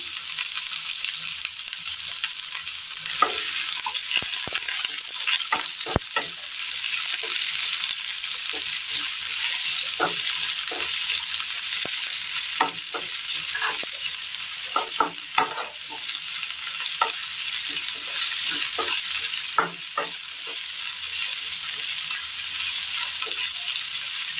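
Onion and green chili sauté with mustard seeds in a pan, giving a steady, soft, hissing sizzle broken by frequent scraping stirs and the odd pop, with no voices.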